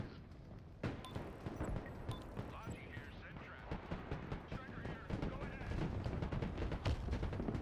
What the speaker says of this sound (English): I decided to jump in and put a shot into that BTR